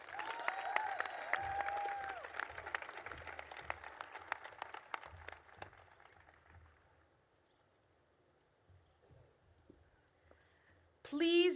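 Commencement audience at Emma Willard applauding the graduating class of 2024, a loud wash of clapping that gradually thins and fades to near silence, followed by a brief renewed burst at the end.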